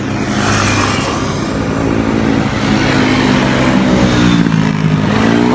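A motorcycle engine running while riding, a loud, steady close drone with rising and falling rev tones throughout, and the rush of passing air, with no voices.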